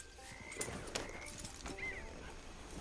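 A horse in the Red Dead Redemption Online video game clip-clops with a few sharp hoof strikes and gives a short neigh, fairly close and clear against a quiet background.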